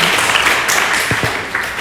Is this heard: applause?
yes